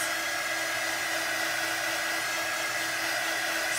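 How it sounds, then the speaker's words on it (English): A drying tool blows steadily and loudly over a glittery Christmas craft, a continuous airy whoosh with no pauses, heard close up and alone. "if I weren't using the drying tool"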